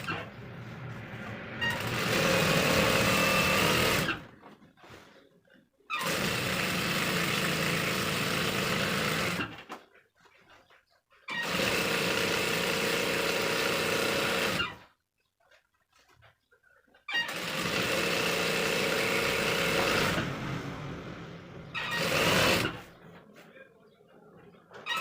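Sewing machine stitching a pant belt, running in four long, loud bursts of steady mechanical whirring with short quiet pauses between them.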